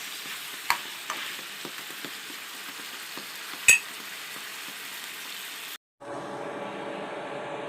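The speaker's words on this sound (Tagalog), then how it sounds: "Kuluan lang natin ng konti ito guys." A pot of mung bean and spinach soup simmers with a faint, steady bubbling hiss, a few soft knocks of stirring near the start and one sharper clink midway, then a brief cut to a slightly louder simmer.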